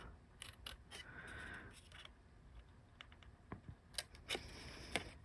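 Scissors cut through paper during a card-making craft project, a series of quiet, short snips and paper rustles, soft and close, with no talking.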